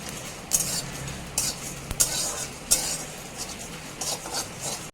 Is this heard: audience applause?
no